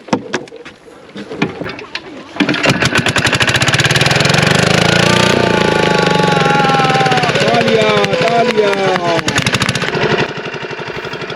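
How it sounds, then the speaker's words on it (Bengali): A river boat's motor on the Mahanadi is cranked and catches, then settles into a loud, close, rattling putter that runs for several seconds before easing off near the end. "আমাদের নৌকায় স্টার্ট দেওয়া চলছে।"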